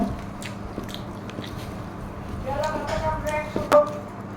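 Someone bites and chews a home-cooked Bengali meal of rice with vegetables, lentils and fried potato, soft crunching close up against quiet kitchen background noise.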